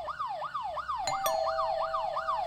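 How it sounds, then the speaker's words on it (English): A police siren wailing in rapid repeated up-sweeping cycles, loud and close, with a couple of sharp clicks partway through. "Sirens are here. Cops are here."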